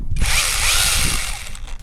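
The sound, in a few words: new hand chainsaw cutting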